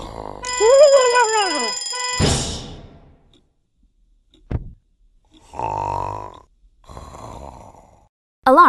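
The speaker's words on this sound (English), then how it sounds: "An alarm is a loud sound that tells you to do something, like move over for a fire truck or wake up to go to school." A loud ringing alarm blares in the Endless Alphabet kids app game, a warbling buzzing tone that runs for a couple of seconds and stops, followed by scattered cartoonish thumps and grunts.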